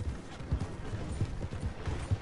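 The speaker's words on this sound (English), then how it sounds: "Yo, horse, shut the fuck up." Horse hooves clip-clopping in a steady uneven rhythm in the Red Dead Online video game, close and moderately quiet with light mechanical tack clinks, no talk over it.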